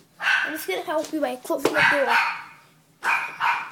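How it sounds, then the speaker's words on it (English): A pet dog barks indoors in short bursts, partly under a person talking nearby, with a brief pause before more barking. "it's my dog just barking at something"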